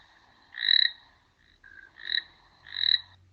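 Three loud, close croaks from a toad, each a buzzy burst with a shorter faint call between, separated by short silences.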